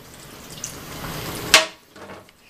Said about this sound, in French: On va ajouter le vinaigre.